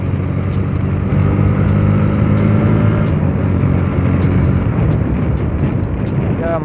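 A Bajaj Pulsar 150 motorcycle engine revs hard at full RPM, a loud, steady, dense roar holding through the whole stretch, with a faint bit of background traffic.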